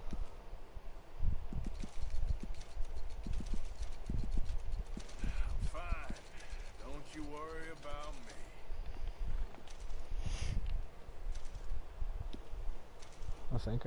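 Horse hooves clip-clop in Red Dead Redemption 2, a steady walking rhythm of close hoofbeats running through the whole stretch, with game sounds and a few brief voice-like calls mixed in.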